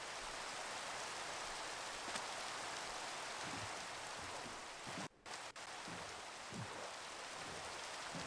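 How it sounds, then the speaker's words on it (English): Rain pours steadily in a video game, a dense, even hiss that runs without a break except for a brief dip midway, heard alone with no voices. "Well, we found the rain, that's for sure."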